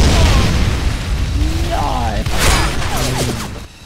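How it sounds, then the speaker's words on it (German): A grenade explodes in the shooter game S.K.I.L.L. Special Force 2, a loud booming burst with crackling debris and a ringing tail, heard up close over continuous game noise. "da explodiert eine Granate"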